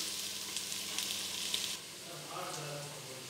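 Ginger and garlic sizzle in a hot oiled pan for vegetable rice, a steady close frying hiss with light stirring scrapes that softens partway through.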